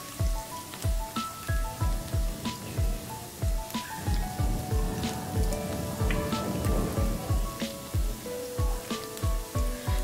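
Cauliflower pakoras deep fry in oil in a kadhai, giving a steady, rain-like crackle and bubbling hiss with regular popping bursts, fairly quiet and heard alone.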